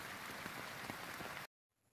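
Heavy rain pours down in a dense, even hiss for about a second and a half, then cuts off abruptly into near silence before a faint patter returns.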